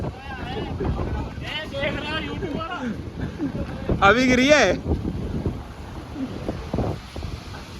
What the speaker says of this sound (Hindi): बहुत तेज आंधी आ रही है